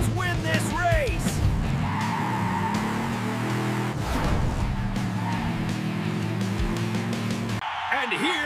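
Cartoon race cars roar along with steady engine drone while tires skid and squeal, the vehicles passing close, with character voices speaking over the action.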